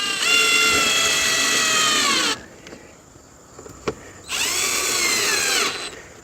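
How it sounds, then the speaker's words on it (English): A cordless drill fitted with a T15 Torx bit drives screws into a 2015 Chevy Malibu headlight assembly, giving two close, loud whirring bursts that wind down in pitch, separated by a quiet pause with a small click. "we can take our T15 Torx bit and tighten up these screws up here."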